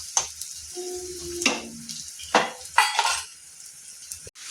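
Onions fry in a pan with asafoetida, soft sizzling broken by sharp clinks and scrapes of a spoon against the pan, intermittent and close.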